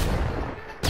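A net gun fires in a video game in two quick, loud, dense bursts, one at the start and one at the end, filling the whole second.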